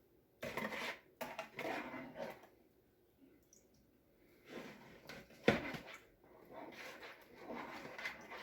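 Donut dough ingredients, sugar and baker's yeast among them, are stirred in a bowl with a utensil, giving bursts of scraping and clinking against the sides with quiet pauses between.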